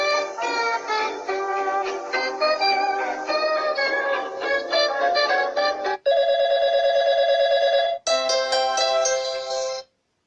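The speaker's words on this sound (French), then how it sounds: "Sonnerie du téléphone." An Infocus M550 smartphone plays its ringtone loudly and clearly: a bright melodic phrase, then sustained electronic tones in two blocks before it stops abruptly.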